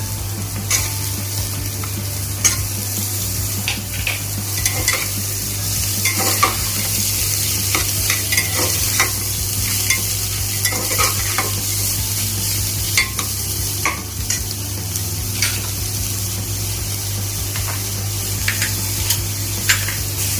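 Soybean chunks fry lightly in a pan with a continuous close sizzle, broken up by frequent stirring scrapes and taps of a spatula against the pan, and no voices.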